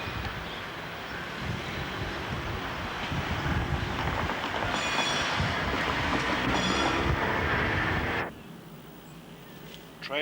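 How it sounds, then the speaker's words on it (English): A diesel multiple unit train leaving Lidlington on the Bedford line rumbles past close by, loud and steady with rattling wheels and a brief high whine, then cuts off to quiet. "Train now leaving Lidlington makes its journey stealthily towards Marston Crossing"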